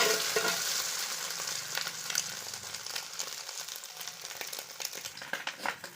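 Omelette for chicken fried rice frying in a pan, a continuous hiss of sizzling with scattered scraping and stirring clicks, close and steady throughout.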